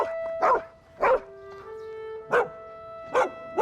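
A dog barks five times in short, loud bursts spaced unevenly, over a steady tonal hum with a faint background drone.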